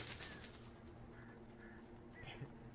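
Birds in the video game Alan Wake give soft cooing calls and a few faint flutters, heard at a distance over a quiet background hum, with no voices.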